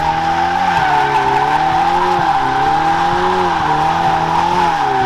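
A Ferrari doing a smoky burnout, tires squealing loudly and continuously over the throaty drone of the engine, the pitch wavering as revs rise and fall, close and without talk.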